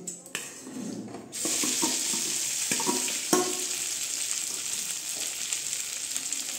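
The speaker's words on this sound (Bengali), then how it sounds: "এর মধ্যে আমি এই যে আলু সিদ্ধ মাখাটা দিয়ে দিচ্ছি।" Mashed boiled potato drops into hot mustard oil in a kadai, setting off a sudden loud sizzle that continues steadily, punctuated by a few sharp clinks and stirring scrapes.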